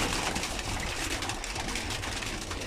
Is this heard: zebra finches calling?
yes